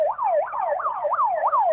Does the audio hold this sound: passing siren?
yes